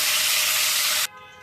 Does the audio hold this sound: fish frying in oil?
yes